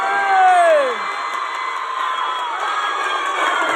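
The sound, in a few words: crowd applauding and cheering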